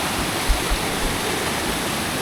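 A river in the Konkan countryside rushes along in a steady, full broadband roar, close and continuous with a few low thumps and no talk.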